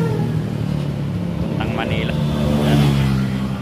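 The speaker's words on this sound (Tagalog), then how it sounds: "Daming mga truck sa kalsada ngayon." Road traffic with trucks on an early-morning drive from Laguna toward Manila, a steady engine rumble with a rising rev near the end, under someone talking throughout.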